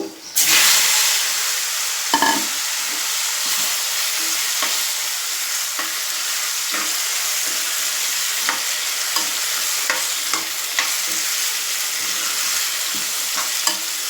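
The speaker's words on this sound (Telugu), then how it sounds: "ఇప్పుడు ఇందులో దోసకాయ ముక్కలు వేసుకోవాలండి ఇంకా దోసకాయ ముక్కలు" Cucumber pieces tossed into hot oil with dried red chilies and garlic for a Telugu-style cucumber chutney, a sharp initial hiss settling into a steady bright sizzle with occasional stirring taps, close and unaccompanied by talk.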